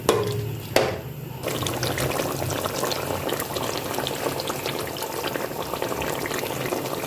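Yogurt being mixed briskly into chicken curry over medium heat gives a continuous wet, bubbling, sloshing churn. A couple of sharp knocks come at the start, then steady motion, close by and without voices.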